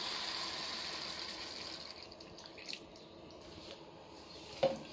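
Half a liter of water poured into cuscuz paulista in a kitchen, a faint steady stream fading after the first seconds, followed by a few soft drips and a sharp small clink near the end.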